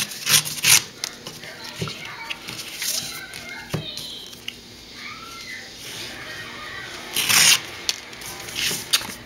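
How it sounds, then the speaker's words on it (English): Patterned paper is ripped against a ruler while making a layered greeting card. Short, rough tearing rasps come in a few separate bursts, with quieter rustling and handling noises between them. "I'm going to use my ruler just to do some easy ripping."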